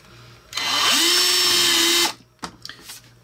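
A power drill whines loudly through a board for about a second and a half, spinning up then steady, followed by brief knocks and handling noise.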